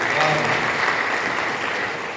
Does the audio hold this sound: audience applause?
yes